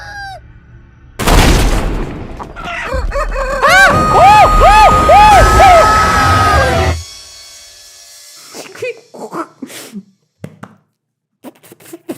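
Chickens in the video game Chicken Feet, with loud, close rhythmic clucking and squawking over a dense burst of game noise for several seconds, then scattered short calls and clicks.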